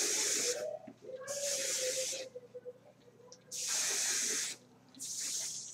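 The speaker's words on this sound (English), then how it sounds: "Now I'm going to spray." Hairspray is sprayed onto freshly curled hair in four long, loud hissing bursts, each lasting about a second, separated by brief quieter gaps with faint rustling.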